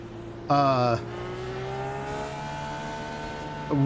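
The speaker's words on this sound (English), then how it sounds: "What I'm doing right here by running the engine like that is just trying to melt down some fuel." Dallara IR18 open-wheel race car in iRacing, engine held at steady high revs with a sharp louder rev burst near the start and another at the end, close and continuous with no talk.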